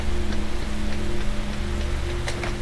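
Rain falling in the Roblox game Interliminality, a steady dense patter on surfaces with scattered distinct drops over a low constant hum, no voices.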